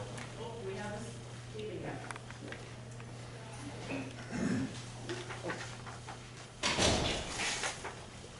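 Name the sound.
door being closed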